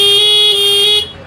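A TVS XL-100 moped horn, a BS4 model, sounds one steady, loud, close-up blast lasting about a second before cutting off.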